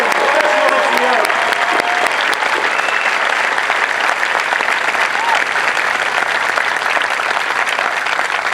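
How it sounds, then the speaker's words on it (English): Sustained crowd applause at an Air Force Basic Military Training parade honoring professional military training instructors, a dense, loud, steady clapping filling the whole stretch outdoors, with a few faint tonal sounds early on. "give a rousing round of applause for these fine men and women, professional MTIs"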